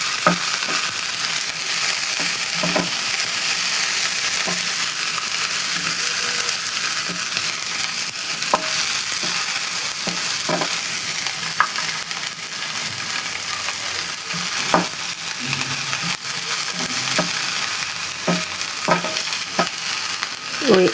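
Hoho, or bell pepper, fries in a pan while chips mayai cooks, a loud, dense, continuous sizzle with occasional light scrapes and taps of a utensil, close and steady with no talk.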